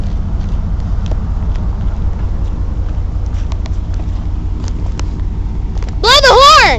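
A low, steady motor rumble from a nearby trolley on the Eureka Springs & North Arkansas Railway pulling away, ending with a sudden loud, wavering whistle-like horn tone.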